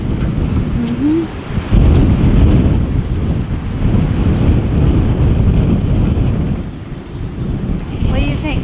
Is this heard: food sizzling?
no